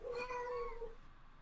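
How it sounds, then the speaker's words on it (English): A single drawn-out cat meow, close and clear, rising and fading within about a second against quiet background. "You let a cat into this party."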